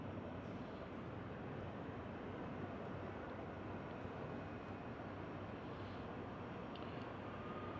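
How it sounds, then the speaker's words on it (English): A steady, distant airliner rumble and roar as the plane descends to land near a port in Kaohsiung, Taiwan, faint and continuous with no voices. "Plane's going in for a landing."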